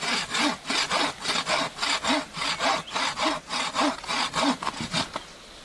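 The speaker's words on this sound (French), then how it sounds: "Il utilise une scie à archet." A bow saw cuts through a small tree outdoors in the snow, with steady rhythmic rasping strokes, about two per second, loud and close, ending abruptly.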